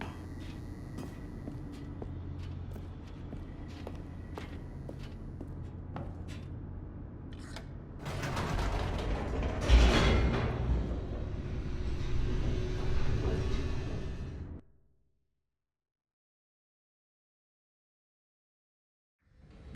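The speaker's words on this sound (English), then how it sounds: "The elevator raced downward" An elevator in The Stanley Parable plunges downward: a steady mechanical hum builds into a loud, broad rushing roar with a sharp thud partway through, holds for several seconds, then cuts off abruptly into silence.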